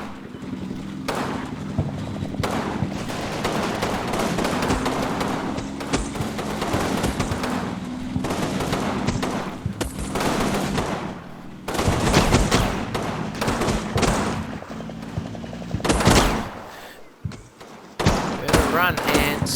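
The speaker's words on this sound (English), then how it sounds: "How's the gunfire going?" Bursts of gunfire from the Combat Mission Normandy war game, irregular shots and rapid volleys with thuds, loud and near, heard under ongoing talk.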